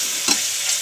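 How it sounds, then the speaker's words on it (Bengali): Chicken pieces fry and get stirred in a pan while soup is being prepared, a short scrape-and-sizzle burst over a steady background hiss, close and moderately loud. "চিকেনটা একটু ভাজা ভাজা করে নেব। আমি ভেজে নেব।"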